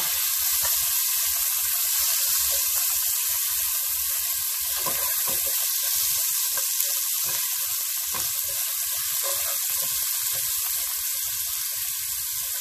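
Garlic frying in hot vegetable oil for Chinese-style broccoli with shrimp in garlic sauce, a steady loud hiss and crackle throughout with occasional sharper pops and spatter.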